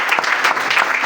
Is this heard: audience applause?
yes